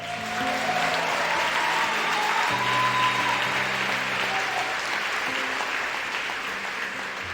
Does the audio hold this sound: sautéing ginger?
no